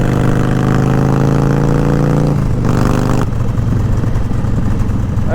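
A sport bike motorcycle engine growls loud and close with a steady, throaty drone. Partway through, its pitch drops and it settles into a rougher rumble.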